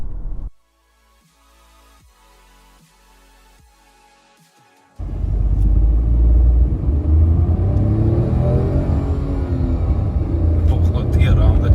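A Tata Nexon 2021 1.2L petrol AMT car accelerating from 0 to 100, heard as a brief engine sound, a pause with faint ticking, then a loud sustained rumbling roar of the engine and road noise building steadily.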